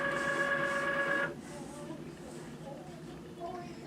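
A Cricut Explore Air 2 cutting machine opening: a steady mechanical whir with tonal motor hum for about a second, then it stops, leaving faint room noise.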